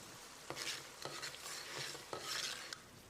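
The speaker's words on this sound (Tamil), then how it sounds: "இடையில கலந்து விட்டுட்டே இருக்கணும்." A spoon stirs boiling tamarind extract seasoned with salt and jaggery in a pot, soft scraping and sloshing over a faint bubbling sizzle, with a few light metallic clinks, quiet and close.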